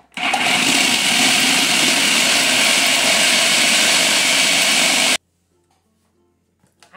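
Food processor whirring loudly as it blends frozen guava and other fruit into ice cream, a steady harsh motor roar for about five seconds that cuts off abruptly into near silence.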